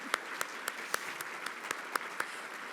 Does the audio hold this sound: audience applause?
yes